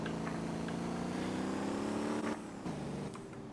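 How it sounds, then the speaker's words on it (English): Steady mid-pitched engine drone of a slightly banged-up taxi in a chill driving video game, holding an even note with a rising whine before a brief dip and shift near the end, close and continuous with no talk. "the car sounds are wonderfully made"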